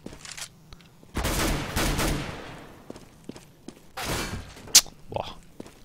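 Rifle and pistol fire in a Counter-Strike match on de_inferno at a LAN playoff comes in sharp repeated bursts. Quieter thuds and footsteps fall between the volleys, and no one speaks.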